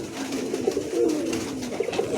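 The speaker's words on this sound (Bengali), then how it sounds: "মার্শাল্লাহ দেখার মতন কবুতর, খুবই চমৎকার।" Pigeons coo softly and repeatedly in low, rolling calls, close by with a faint background hiss.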